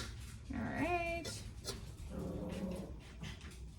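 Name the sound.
dog barking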